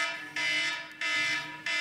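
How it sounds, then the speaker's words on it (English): A mobile phone alarm goes off indoors, sounding as three loud, evenly spaced electronic tone bursts in quick succession with no talking. "excuse that phone going off"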